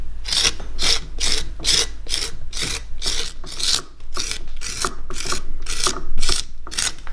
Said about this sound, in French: j'agrandis l'ouverture à l'intérieur avec un couteau long qui me permet d'aller